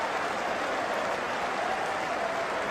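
Spectators at an Ashes cricket Test between England and Australia applaud in a steady, broad wash of clapping heard from a distance, without talk.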